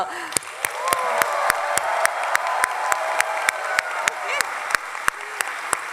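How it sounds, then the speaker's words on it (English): Audience applause for graduates at a master's graduation ceremony, steady clapping from a large crowd filling the hall for several seconds with scattered cheers. "we want to have a loud round of applause to the graduates"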